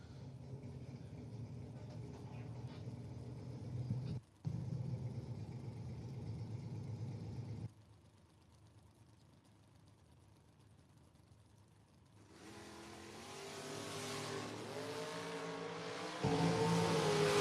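Drag racing at a strip, including a 1967 Chevy II door car: a heavy engine roar fills the first several seconds, cuts out, then after a quiet stretch the noise builds again and rises toward the end.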